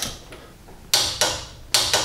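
Four sharp, close metallic ratchet clicks come in quick pairs as brake caliper bolts are tightened on a Renault Megane 3 during a front brake job.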